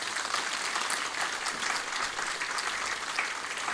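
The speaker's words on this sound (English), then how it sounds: "give the two of them a big, don't shout please, a big round of applause" Audience applause at a Vedic Vivaah Sanskar wedding ceremony at a gurukula, a dense, even round of clapping from a crowd, sustained throughout with no talking.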